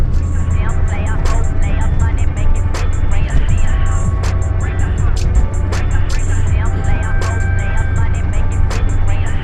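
Rover 114 GTI with a Lotus K-series engine pulling hard in fifth gear on a climb, a steady loud engine drone under constant road and wind noise, with a faint regular ticking above.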